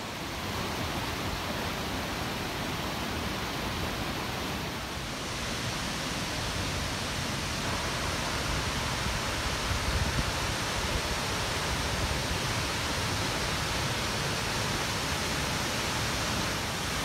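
The 26-metre Whangarei Falls waterfall roars in a steady, dense broadband rush of falling water, loud and unbroken throughout with no voices.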